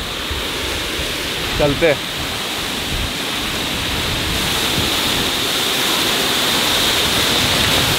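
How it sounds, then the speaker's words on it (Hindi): Jogi waterfall beside the Badrinath road roars as a steady broadband rush of falling water that swells slightly over time, close and loud, with a brief spoken word near the start. "अभी अपन रुके जोगी वाटरफॉल्स पे"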